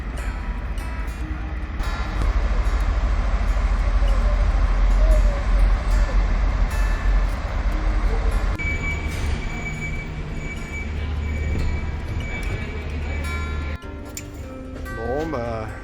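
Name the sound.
ferry arriving and docking at the quay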